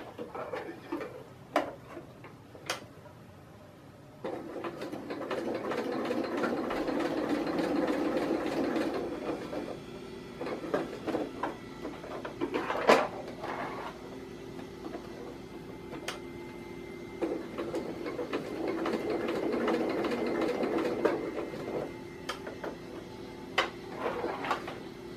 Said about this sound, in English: Waiting for it to do the lock stitch. And it wants to balk a little bit because the fabric is so thick.